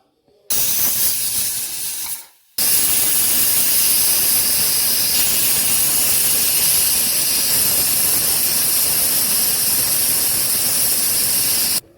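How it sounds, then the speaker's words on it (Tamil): A pressure cooker cooking lentils releases a loud, continuous hiss of whistling steam, starting abruptly, breaking off briefly, then roaring on steadily for about ten seconds. "இதை க்ளோஸ் பண்ணிவிட்டு ஒரு 4 விசில் விட்டு எடுத்துக்கலாம்."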